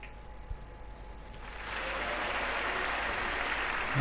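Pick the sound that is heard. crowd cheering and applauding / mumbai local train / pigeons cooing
crowd cheering and applauding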